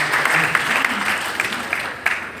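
Audience at a Sunar community event in Haryana giving steady applause in honour of a guest, a continuous patter of clapping with some louder individual claps standing out.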